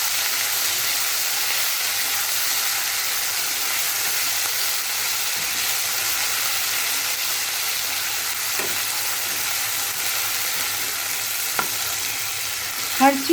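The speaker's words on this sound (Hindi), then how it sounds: "और इसको हल्का सा भून लेंगे हम ताकि इसकी रॉ स्मेल चली जाए।" Ginger garlic paste fries in a pan over low flame, a continuous even sizzling hiss that holds steady throughout, with a few faint clicks and a brief knock near the end.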